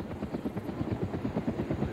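A helicopter bringing a supply drop in the video game Arma 3 thumps steadily with loud, rapid rotor beats, close and continuous, with no talking.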